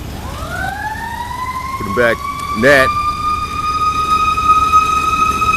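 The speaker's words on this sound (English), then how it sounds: "always sirens around here" A siren wails steadily in the distance, its rising tone holding throughout while someone speaks briefly over it.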